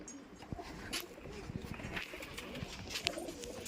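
Punjabi pigeons coo softly at close range, low murmuring calls repeated under faint background rustle and scattered clicks.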